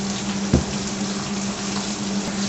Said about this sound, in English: I am going to add 1/2 cup of water in here and a little bit of bouillon